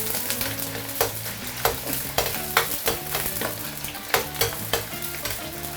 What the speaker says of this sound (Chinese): 我们把这个油扯下来，单独给它煸一下